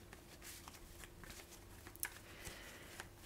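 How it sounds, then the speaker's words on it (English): Tarot cards being shuffled by hand, a soft, steady riffling and sliding of card stock with a few sharper flicks, quiet and close with no talking. "I am shuffling the cards here"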